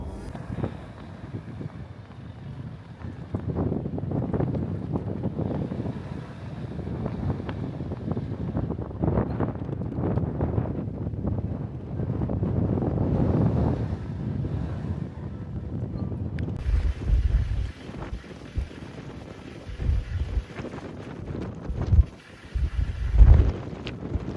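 Strong wind roars across the Gobi desert in a snowstorm near Tsagaan Suvarga, buffeting the microphone in steady gusts with rumbling low-end bursts toward the end; no voices.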